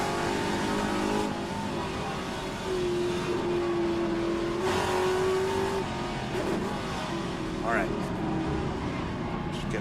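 A classic Trans-Am race car engine downshifting at Mosport roars continuously, its pitch sliding and blipping as gears drop, with a driver's voice running over the engine noise.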